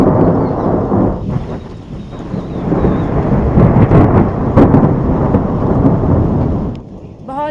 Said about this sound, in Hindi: इतने ज़ोरों से अब बादल गरज रहे हैं